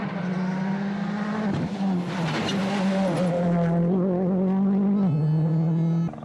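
A WRC rally car, Mikko Hirvonen's, roars loud and close at the 2008 Rallye Monte Carlo, its engine note holding a steady, strained pitch with brief dips as it shifts and lifts while driving past.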